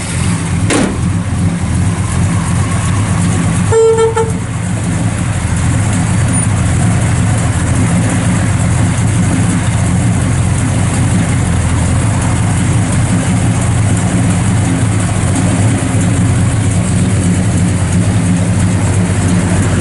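A 1966 Chevrolet Chevelle SS 396 with a mild cam catches with a short clatter and settles into a loud, steady, rumbling idle that runs on unchanged throughout.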